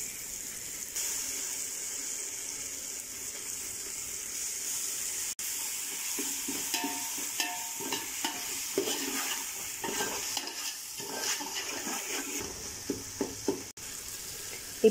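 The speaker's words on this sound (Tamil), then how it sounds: "வெங்காயம் தக்காளி எல்லாம் நல்லா வதங்கிருச்சு. இப்போ நம்ம இஞ்சி பூண்டு பேஸ்ட்டு போட்டுக்கலாம்." Ginger garlic paste sautéing with onions and tomatoes in a pan for a homemade chicken biryani: a low, steady sizzle broken by scraping stirring strokes, fairly quiet and close, with no talking.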